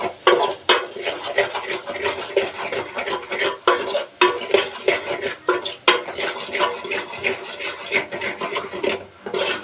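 Egg biryani masala seasoned with turmeric and salt is stirred in a pan, giving a continuous run of close scraping and rubbing strokes in an uneven rhythm, with occasional sharper knocks of the spoon against the metal.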